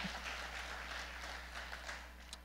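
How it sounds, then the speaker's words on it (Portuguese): A church congregation at a Sunday morning family service claps together, a soft, fairly distant patter of many hands that holds steady and tapers slightly, with no speech. "pode aplaudir"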